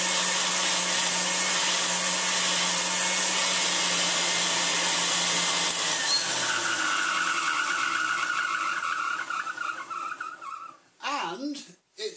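A restored Hoover Senior 652a vacuum cleaner, fitted with a tool converter, runs with a loud, steady motor roar that shifts in pitch partway through, then falters and cuts out near the end.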